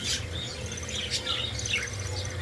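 Parakeets in a breeding cage give a steady mix of high chirps and short tweets over a low background hum, close and moderately loud with no talking.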